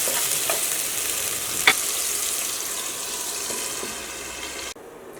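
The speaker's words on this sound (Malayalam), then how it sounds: "നമുക്കത് മൂടി വെച്ചിട്ട് നമ്മുടെ ചിക്കൻ ഒന്ന് വെന്ത് വരട്ടെ" Boneless chicken cooks in a covered pan over a medium flame, giving a steady close sizzle and hiss with a single faint clink before the sound cuts abruptly near the end.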